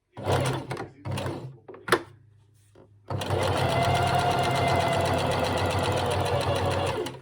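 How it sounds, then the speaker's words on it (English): A sewing machine stitching along the top edge of fabric for an ottoline tail: a few short bursts and handling clicks, then a loud, steady whirring run of rapid stitching up close. "Just gonna sew along the top edge, nice and neat."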